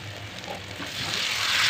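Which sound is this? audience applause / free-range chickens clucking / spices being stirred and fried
spices being stirred and fried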